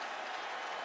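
Stadium crowd applauding at the 2012 BCS National Championship college football game between Alabama and LSU, a steady wash of clapping from a large distant crowd, brief and even, without any voices standing out.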